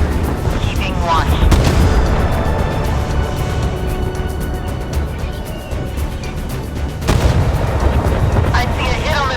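Warship guns boom in a Force of Warships naval battle game, with heavy deep blasts rumbling loudly over continuous battle noise and game voice lines.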